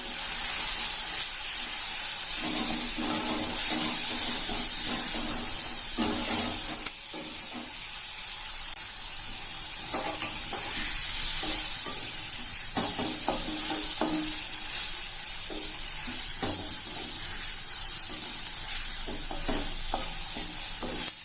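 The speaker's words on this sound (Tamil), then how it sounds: "இது எல்லாமே சேர்ந்து வதங்கட்டும்." Brinjal fries in a pan with turmeric, pepper, chilli, Kashmiri chilli and garam masala powders, a steady close sizzle with hiss and intermittent scraping stir strokes throughout.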